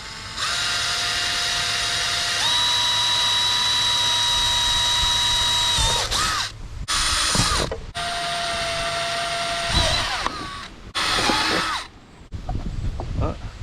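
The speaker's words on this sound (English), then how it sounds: "we're going to pre-drill these holes so that way we don't have to drill through this and then the bumper." A power drill whines at a steady pitch while pre-drilling holes in a Nissan 300ZX bumper, then stops and restarts in several shorter bursts, close up, with brief gaps of quieter background between runs.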